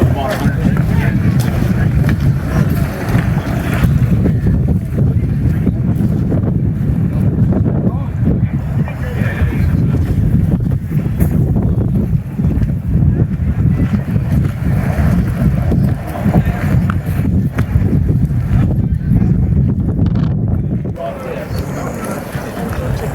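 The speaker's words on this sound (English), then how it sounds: "Hopefully the wind's not real bad, but it's picking up." Strong wind blows outdoors around a tiny home site, roaring and buffeting the microphone in a steady, loud gust that persists throughout, with people talking beneath it.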